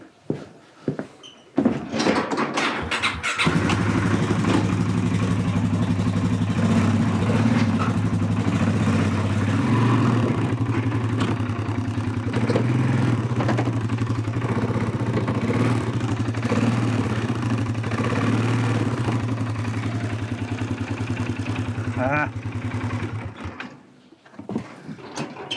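Steady low engine drone of a vehicle fitted with a front plow, idling and running continuously with a mechanical rattle over it, close and fairly loud, starting after a few seconds and dropping off near the end.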